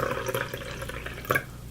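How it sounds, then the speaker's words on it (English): Monster Energy Rehab White Dragon Tea is poured out of its can, a soft continuous trickle and splash of liquid at close range with a brief louder gurgle near the end. "pour it out."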